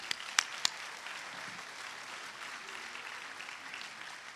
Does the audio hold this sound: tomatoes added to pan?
no